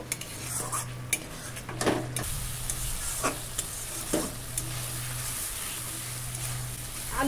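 Fried potatoes are stirred and sautéed in sauce in a pan for a Bengali fish curry. A close, steady sizzle runs under repeated scraping and clinking strokes of a metal spatula.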